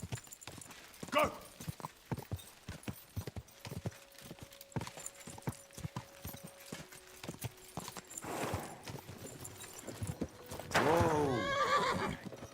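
Horse hooves clip-clop steadily in the game Kingdom Come: Deliverance II, with a loud, bright whinny breaking out near the end.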